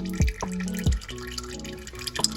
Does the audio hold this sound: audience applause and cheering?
no